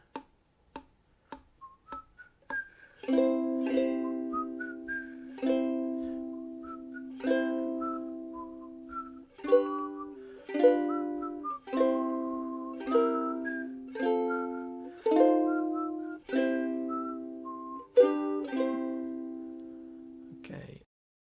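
Ukulele picked fingerstyle in a beginner arrangement, opening with a few sparse single notes before settling into a steady run of plucked chords and melody notes, close and clear with no talking.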